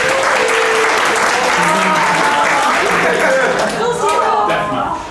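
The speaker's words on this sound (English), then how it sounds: "give yourselves a round of applause for being the last 2" An audience at a motivational speaking event applauds steadily and loudly throughout, with a voice speaking over the clapping before it begins to taper at the end.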